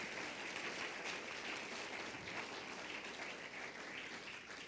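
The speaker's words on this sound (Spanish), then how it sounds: "dele fuerte ese aplauso al Señor." A congregation claps loudly and steadily at a Spanish-language church service, a continuous broad roar of applause filling the whole stretch without a break.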